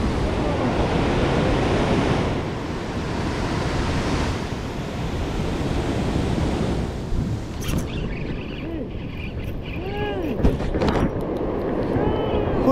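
Sea waves washing over shore rocks on a rocky fishing coast, a continuous heavy roar of surf with wind buffeting the microphone, surging and easing, with voices occasionally underneath.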